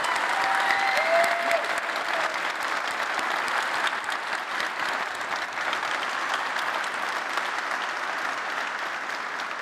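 Audience at a large tech keynote conference applauds steadily for nearly ten seconds, a dense, even wash of clapping from a big crowd.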